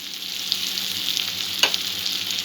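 Tomato and other sandwich filling ingredients fry in a pan, giving a steady, close sizzle with a few light stirring clicks and no talking.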